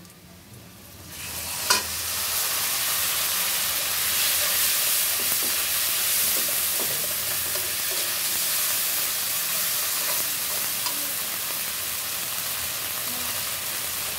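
Ginger-garlic paste with chili and turmeric powder frying in a pan for a spiced egg and pointed gourd dish: a loud, steady sizzle that breaks out after a quiet start and holds, with occasional stirring scrapes and no talk.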